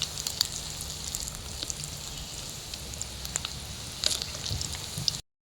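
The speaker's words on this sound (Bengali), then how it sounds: "দেখো আমার পকোড়াগুলো কিন্তু খুব সুন্দর করে ভাজা হচ্ছে।" Battered cauliflower pakoras deep-frying in oil produce a steady, rain-like hiss sprinkled with small crackles and pops, then stop suddenly.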